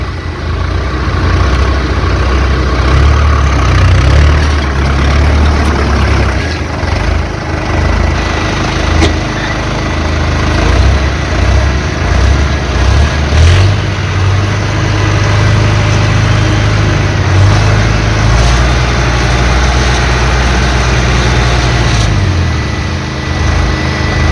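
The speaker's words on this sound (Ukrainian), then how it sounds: "Чітко працює двигун, взагалі димом не кидає." A 95-horsepower Kubota tractor's diesel engine idles steadily and evenly, a loud, close, continuous low rumble with a slight mechanical clatter and a small shift in tone partway through, with no voices.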